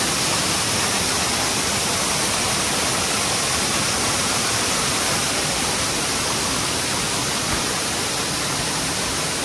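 A freshly found waterfall on a hike near the Cherandong dam at Kuala Kubu Bharu roars in a dense, steady broadband rush. It stays close and loud without a break, and no voices come through.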